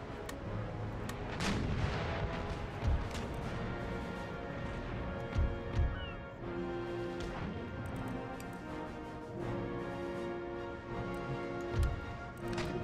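Naval cannon fire from ships in the strategy game Empire: Total War, a run of booming shots and crashes, some close and loud and others farther off, over a constant low battle hum.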